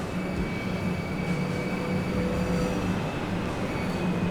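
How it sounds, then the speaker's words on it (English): Train rumble from Train Sim World 2 on Southeastern High Speed, a steady loud rolling drone with a low hum and faint high tonal whine, continuous throughout without talk. "Train coming on."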